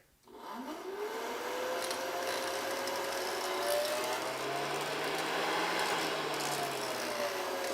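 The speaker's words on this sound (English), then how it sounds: "I'm going to use my trusty spoon as the potentiometer slider and tune the speed of my hairdryer." Hair dryer motor whirring after switching on, its speed varied by a spoon sliding along a makeshift resistor, producing a steady close hum with a whine that climbs, holds and dips slightly.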